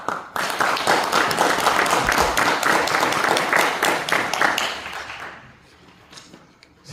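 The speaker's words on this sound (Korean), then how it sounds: "박수로 맞아주시고" An audience at a church award ceremony for the Mokmin Prize breaks into loud, dense applause that holds steady for about five seconds, then thins to a few scattered claps.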